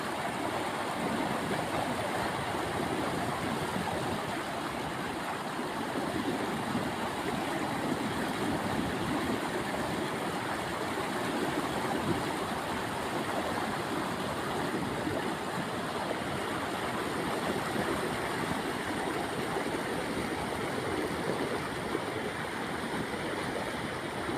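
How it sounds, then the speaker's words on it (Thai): Water pours steadily over an overflow weir at a waterfall, a dense continuous rushing roar that stays even throughout, with no voices. "ข้างบนเป็นน้ำล้นนะคะฝายน้ำล้นค่ะ"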